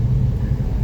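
A low, steady engine rumble hums inside a moving Toyota car, a brief, even drone heard from the cabin.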